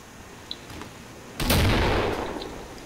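An auto shotgun in the Killing Floor video game fires a loud, close blast that rings out over faint background game ambience.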